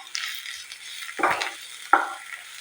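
Onions with ginger garlic paste fry quietly in a pan, a soft sizzle broken by two or three scraping stirs of the spoon, with no talking.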